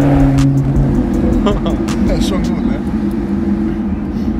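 Maserati GranCabrio MC driving while warming up, its engine a steady, loud, smooth drone with tire and road noise and faint background clatter, heard from inside the car.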